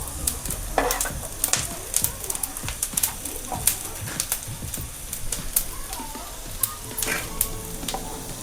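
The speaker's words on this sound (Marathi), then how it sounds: "तीळ खसखस असे खमंग भाजली गेली पाहिजे" Sesame and poppy seeds dry-roast in a pan while a spoon stirs them, giving a steady close sizzle broken by repeated sharp scraping strokes, with birds chirping faintly in the background.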